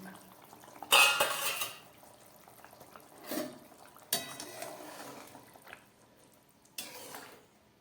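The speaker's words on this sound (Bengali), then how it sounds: "4-5 মিনিট ঢাকা দিয়ে সিদ্ধ করার পর এবার ঢাকা খুলছি।" A metal lid is lifted off a pot of boiling radish, papaya and potato curry, giving several sharp clanks and clatters with softer scrapes and bubbling between them, close by and without talk.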